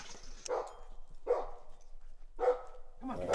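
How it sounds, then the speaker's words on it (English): A dog barks at a remote Alaska wilderness homestead. Four sharp barks come at uneven intervals, moderately close and clear against a quiet background. "just heard the dog bark."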